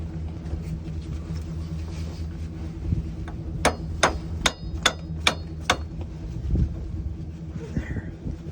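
A ball peen hammer strikes metal while a payloader is being repaired during township snow plowing, six sharp ringing blows in a steady run over a low engine rumble, with brief talk nearby.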